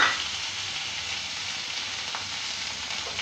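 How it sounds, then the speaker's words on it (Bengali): Boiled, peeled potato pieces frying in a pan, giving a steady, even sizzle that stays fairly close and constant throughout, with a few brief crackles and no talking. "এবার একটু একটু ভেজে নেব।"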